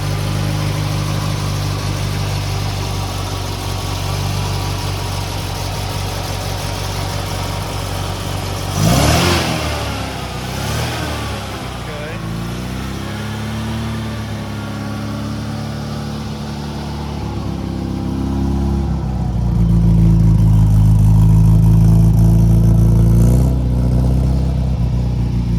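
A Datsun 2000 roadster engine idles close and loud after a cold start, then revs sharply several times with rising and falling pitch before settling back to a fast, steady idle.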